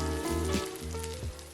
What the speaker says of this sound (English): Allow the onions to go 2 minutes on each side undisturbed, and it's going to look amazing.